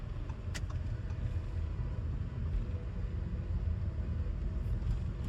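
A car drives along a highway at night en route from Kolkata toward Puri, its steady low engine and road rumble continuous and fairly close throughout, with no voices.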